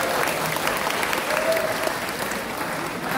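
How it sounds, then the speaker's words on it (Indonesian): An audience of school alumni claps together in sustained applause, a dense steady patter of many hands close by with no break. "Anak PPK Penabur, alumni PPK Penabur, mereka tepuk tangan."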